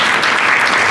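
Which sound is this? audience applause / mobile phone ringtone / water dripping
audience applause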